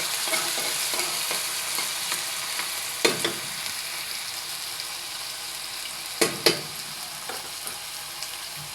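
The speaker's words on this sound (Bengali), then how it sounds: "আমি আলুটা একটু তেলের পর ভেজে সিদ্ধ করে নেব।" Potatoes frying in oil in a pan for egg noodles, a steady close sizzle broken by a few sharp stirring scrapes and clinks.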